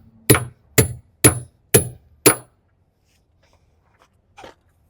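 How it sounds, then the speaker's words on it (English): Five sharp, evenly spaced hammer blows drive a long repair plug into the thick tread of a tire, each one loud and close, then a quiet pause with one faint tap. "use my longer reamer and a longer plug and hammer it in"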